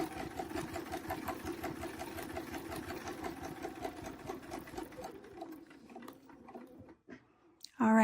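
A sewing machine stitches along a quilt panel in a fast, steady mechanical chatter that runs for about five seconds, then slows and stops, leaving near-quiet with a brief bump at the end.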